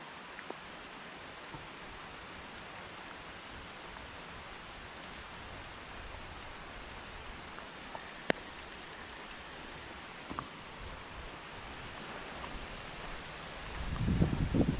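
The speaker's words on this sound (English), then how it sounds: "This rain sucks." Steady rain falls around a pond as an even, diffuse hiss with a few faint drips and knocks, then grows into louder close rustling at the very end.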